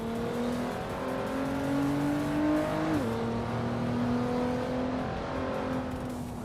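Racing cars in a video game race accelerating with whining engine tones that climb, drop at a gear change and climb again, over a steady rushing engine bed.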